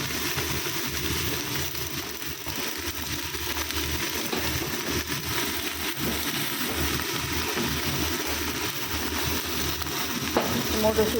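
Lentils (dal) hit a hot frying pan and sizzle steadily, a soft continuous crackle with faint stirring noises, fairly close and even throughout, with a small clatter near the end.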